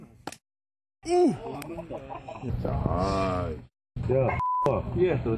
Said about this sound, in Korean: 화살을 빗맞은 닭이 비명을 지릅니다.